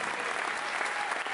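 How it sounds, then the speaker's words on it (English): Steady, dense applause from an audience at a physique and fitness show award ceremony, filling the whole stretch at an even level with no break. "Give them a big round of applause."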